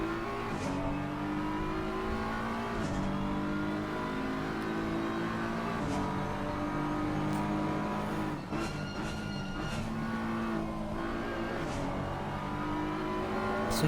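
GT3 race car in Assetto Corsa Competizione practice at Zolder, engine note climbing and dropping steadily with gear shifts and brief downshift blips, loud and continuous throughout.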